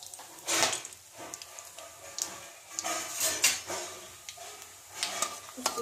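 Cumin seeds and dry spices roasting in hot oil in a pan, heard as close clinks and scrapes of a spoon against the pan over a soft sizzle, with no talking.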